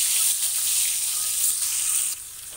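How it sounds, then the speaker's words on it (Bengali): Eggs frying in oil in a pan give a steady, close, crackling sizzle throughout, with a slight drop in level near the end. "তো এখন ডিমগুলো আমি ভেজে নেবো।"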